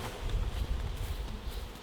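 Young, non-flying honeybees being poured into a nucleus hive give off a soft, steady buzzing hum close by, with faint rustling and no voices.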